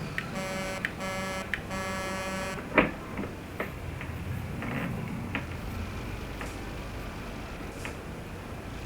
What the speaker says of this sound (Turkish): Kornası da Amerikan.